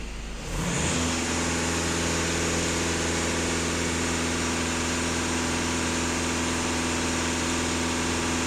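A VW Golf 2.0 TDI diesel engine held at steady high revs under a floored throttle, a loud continuous droning hum with strong steady harmonics after a brief rise at the start, with no talking.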